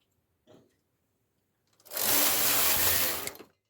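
A knitting machine carriage slides across the needle bed while knitting English rib, giving one loud sustained mechanical rush of about a second and a half after a faint short clack, near and with no talking.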